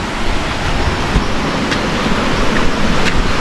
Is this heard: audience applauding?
no